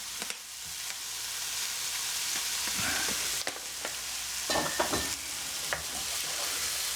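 Chicken frying in oil in a pan while being stirred, a soft steady sizzle broken by scraping and clinking stir strokes at irregular moments.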